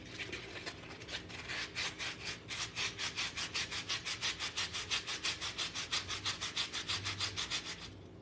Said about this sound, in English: Then I'll take and sand it a little bit here.